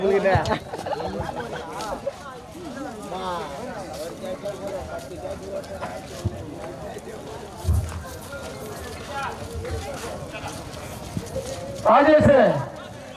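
Bulls pull a cart in a bullock cart race in Chennai's Madhavaram, hooves pounding and the cart rattling over a busy, noisy background, with people shouting and talking throughout and a louder burst near the end.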